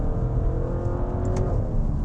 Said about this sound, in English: I just can't get enough of the engine in this car